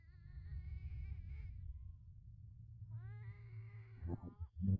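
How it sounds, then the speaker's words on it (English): Distorted, eerie cat meows and yowls from a spooky indie video game, two drawn-out wavering cries separated by a pause, over a steady low rumbling game soundtrack, with a few louder thumps at the end. "Those are like bad cat sounds."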